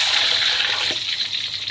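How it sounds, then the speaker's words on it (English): Water poured into a pot of braising liquid for chicken feet with ginger, star anise and dried peppers, a brief steady splashing pour that trails off, close and without speech. "Add water."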